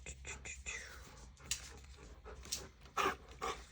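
Soft, quick panting from a dog close by, with faint whimpers mixed in, runs under quiet whispery talk and light rustling.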